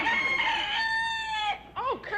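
A rooster crows once in a long, loud, drawn-out call, ending in a few short rising squawks, with the strained harmonics of a voice that may be imitating the bird on a 1967 comedy variety show.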